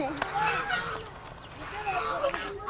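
Ducks honk and quack in repeated short calls at close range while being fed, with a person talking intermittently over the birds.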